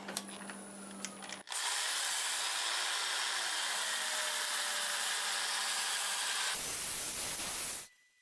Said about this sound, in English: So I'm going to go ahead and sand this, starting with 150 grit